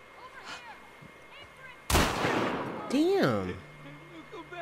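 Gunfire bursts out in The Last of Us Part II, a sharp loud blast followed by a second crack about a second later, with scattered game sounds and a player's voice around them.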